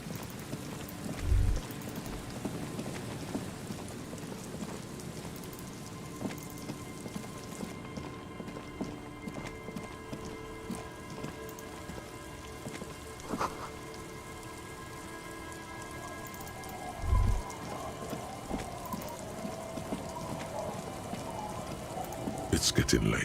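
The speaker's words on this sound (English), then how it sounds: "It's getting late, and it's raining." Steady rain falls in the video game Disco Elysium, a continuous soft patter on surfaces with a couple of low thuds and faint ambient tones beneath.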